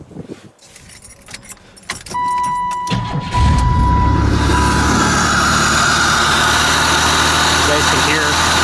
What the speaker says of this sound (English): let me go ahead and start it up for you guys. It runs a lot better now.